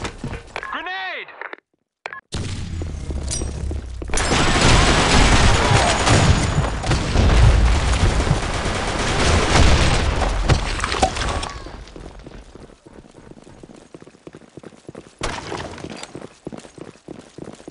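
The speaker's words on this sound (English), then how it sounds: "Fire in the hole! Fire in the hole! Grenade!" Grenade blasts and gunfire in the video game BlackShot, a sharp opening burst then a long, loud rumbling barrage that fades into sparse shots, with shouted voices over the action.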